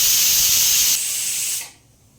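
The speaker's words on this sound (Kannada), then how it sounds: "ಈಗ 3 ವಿಷಲ್ ಆಗಿದೆ." A kitchen pressure cooker of sprouted horse gram sambar vents steam in a loud, steady hiss for under two seconds before cutting off into quiet.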